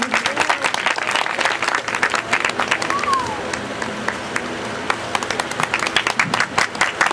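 A crowd at an institute's opening ceremony breaks into hearty applause, a dense patter of many hands clapping steadily throughout, fairly close and loud, with a brief voice briefly rising above it.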